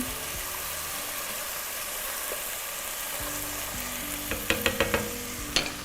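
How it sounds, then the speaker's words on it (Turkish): Roasted eggplant liquid goes into a hot pot and sizzles in a steady, faint hiss, followed by a few sharp clinks and taps near the end. "Artık suyumuzu verebiliriz. Patlıcanların suyunu veriyorum."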